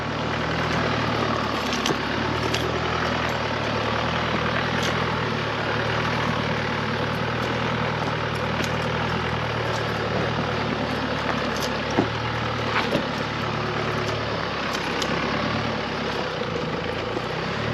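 A Chevrolet Colorado ZR2 pickup rumbles along off-road at Pennsylvania Gulch, Colorado, its engine a steady low drone throughout with occasional knocks and clunks over the terrain.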